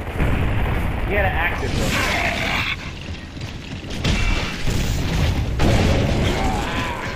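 Grenade explosions in a video game: repeated heavy booms and crackling blasts over dense game noise, with players talking excitedly throughout.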